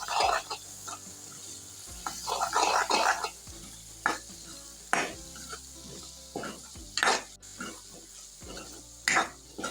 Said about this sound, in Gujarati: અને હવે બધો મસાલો અને ટમેટા આપણે સરસ રીતના હલાવી લઈશું